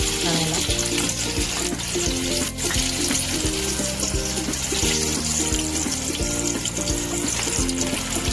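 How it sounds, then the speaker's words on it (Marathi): Alu vadi, sesame-topped colocasia rolls, frying in hot oil as the second side crisps, giving a steady, continuous sizzle beneath fairly loud background music, with no talk. "आता आपण दुसऱ्या बाजूने छान तळून घेऊया खुसखुशीत अशा आळूवडी"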